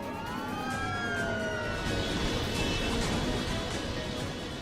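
Fire truck sirens wail continuously as the trucks race across an airport while a DC-10 airliner plunges toward the runway, the rising and falling tones overlapping over a loud rumbling background.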